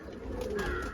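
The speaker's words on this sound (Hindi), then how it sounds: "ये सब बहुत अच्छे कबूतर हैं" Domestic high-flying pigeons in a loft give a short, soft, low coo close by, with no other sound around it.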